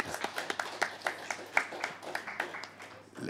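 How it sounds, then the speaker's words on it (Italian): A small group claps at an Italian event presentation on Creative Europe, sparse uneven hand claps ringing out fairly near for a few seconds. "Un applauso per favore"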